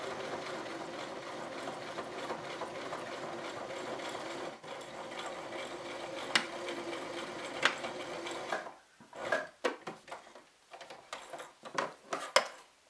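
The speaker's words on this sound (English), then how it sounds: "this is a fabulous sewing machine to start off with for a beginner" A beginner's sewing machine stitches through eight layers of denim, a steady mechanical whirring that runs continuously, then breaks into short stop-start bursts with clicks near the end; no voices.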